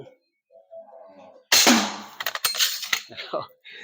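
A slingshot fires at a target about ten metres away: after a quiet stretch with a few soft handling noises comes a sharp loud snap and impact, then a burst of rattling clatter and several smaller knocks.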